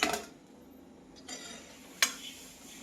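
Karanji pastries deep-frying in a pan of oil: a low, steady background hiss broken by a few sharp metal utensil clinks against the pan, close and moderately loud.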